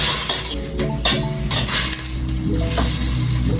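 Sliced squid sautéing lightly in a pan with onions, a steady close sizzle broken by clinks and scrapes of a utensil against the pan.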